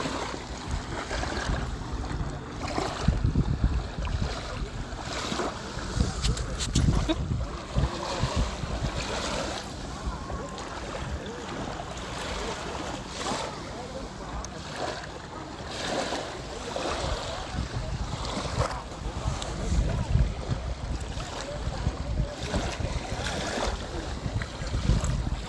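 Sea waves roll in at Corniche beach under gusting wind that buffets the microphone, a constant rough wash of surf and wind noise with no clear speech.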